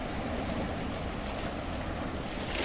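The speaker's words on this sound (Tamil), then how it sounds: "அப்பா, என்ன அலையப்பா" Sea waves wash continuously along the shore at Port Klang, a faint broadband rushing with light wind noise and no voices.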